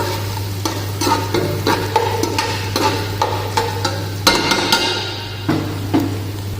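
Onions cooking until golden brown in a pan for kabsa rice, a steady sizzle with a low hum beneath, broken by repeated scraping knocks of a spoon stirring against the pan.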